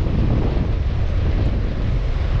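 Steady, loud wind roars and buffets the microphone beside a gin-clear mountain river during a fly fishing trip for brown trout, filling the whole stretch with dense, unbroken rushing noise.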